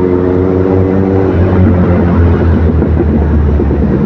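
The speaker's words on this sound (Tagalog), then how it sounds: "Ganda ng tunog. That is inline 4 mga katribo. Inline 4 engine." Loud, close engine of an inline-four motorcycle, with a steady droning hum that rises and roughens as it revs.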